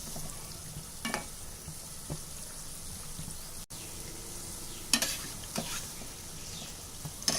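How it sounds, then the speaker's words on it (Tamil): Rava sweets fry in hot oil in a pan with a steady soft sizzle, broken by a few sharp scrapes and clatters as the pieces are stirred and flipped, close and unaccompanied by voices. "இப்போ இது ஒரு பக்கம் ஃப்ரை ஆயிடுச்சு நம்ம திருப்பி விடலாம்"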